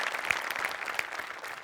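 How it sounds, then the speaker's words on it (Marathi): A theatre audience applauds a comedy troupe's team performance on a Marathi stage show, with a dense, steady wash of many hands clapping at moderate level and a few sharper claps standing out. "त्यामुळे सगळ्यांकरता एकदा टाळ्या."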